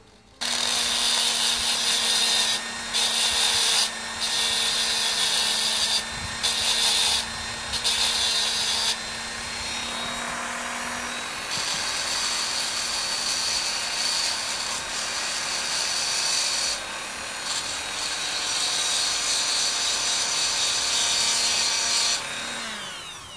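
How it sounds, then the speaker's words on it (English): Plastic wheels of a Hot Wheels toy car, a custom Ford Ranchero gasser, ground with a small power tool, giving a continuous high whining rasp in repeated bursts that later settles into longer steady grinding, close and alone without talk. "whenever you're grinding the wheels, try to let them cool down a little bit"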